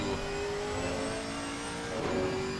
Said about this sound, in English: the Camaro does indeed sound awesome.